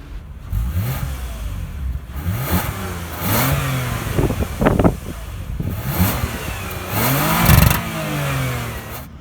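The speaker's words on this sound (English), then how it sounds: "you have those quad exhaust tips, and we'll go ahead and listen to those." A family sedan with quad exhaust tips revs close by, rising and falling through several throttle blips over a rumbling idle.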